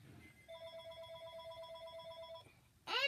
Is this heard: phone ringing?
yes